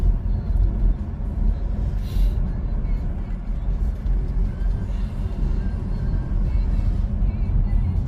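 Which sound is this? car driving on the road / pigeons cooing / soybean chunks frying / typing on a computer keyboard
car driving on the road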